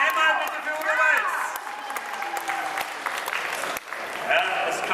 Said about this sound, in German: einen herzlichen Applaus, keinen verhaltenen, einen herzlichen